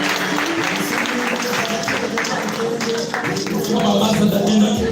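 Audience applause for a woman being honored at a Saturday recognition event, a steady wash of clapping throughout with voices and cheering mixed in, growing slightly louder near the end.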